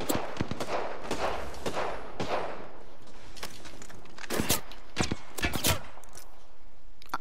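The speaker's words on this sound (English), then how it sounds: "They're shooting at me." Gunfire in the video game Apex Legends: bursts of rapid shots and sharp single cracks come in clusters over steady game background noise, fairly loud and close, with no talking.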